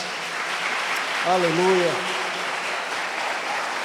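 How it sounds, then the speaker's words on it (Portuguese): A church congregation at a state conference breaks into sustained applause, a steady wash of clapping that runs the whole stretch while a single voice briefly calls out over it. "Para Jesus e para o irmão que está do seu lado, dê uma forte salva de palmas."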